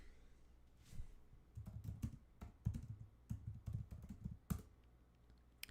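Clattering keystrokes on a computer keyboard, close and fairly quiet, arriving in uneven bursts of rapid taps with brief pauses, with no speech.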